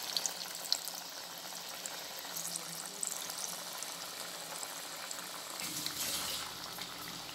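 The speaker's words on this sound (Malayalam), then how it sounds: "ചട്ടിയിലേക്കിട്ട് ഒന്ന് വറുത്ത് കോരിയെടുക്കാം." Parippu vada, lentil fritters, fry in hot oil in a pan, giving a soft, steady, bubbling sizzle that stays fairly faint throughout.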